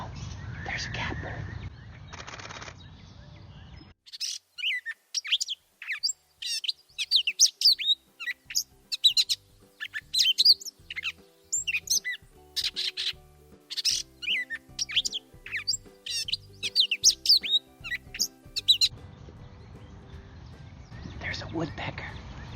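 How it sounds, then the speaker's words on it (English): A catbird calls in a backyard with repeated bursts of scratchy chirps and mews in an irregular rhythm. A person speaks quietly before and after the calls. "Oh, there's a catbird."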